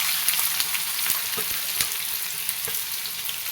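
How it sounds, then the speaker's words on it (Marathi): Onion frying in hot oil in a pan while cooking ghol bhaji, a steady close sizzle with scattered crackles and pops throughout, no voices. "तेल गरम झाले आता ते कांदा टाकून घेते"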